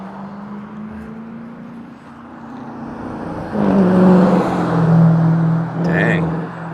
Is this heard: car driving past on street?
yes